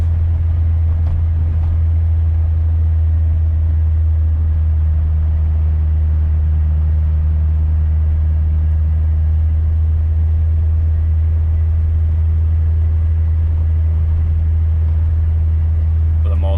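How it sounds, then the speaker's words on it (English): Steady low engine drone and road rumble from a 1973 Audi 100 LS while driving, a continuous loud hum filling the cabin with no talking over it. "A little bit of engine noise, of course"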